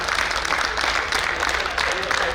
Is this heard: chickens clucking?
no